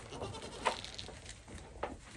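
Goat bleating outdoors on a snowy homestead during a blizzard, faint and somewhat distant, with a couple of short bleats and a quieter one later amid wind and background hiss.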